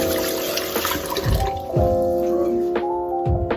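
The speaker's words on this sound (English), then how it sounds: "make sure I wash my hands" Hands are washed under a running kitchen tap, giving a steady rush of water with a few louder splashes, close by and with no talking.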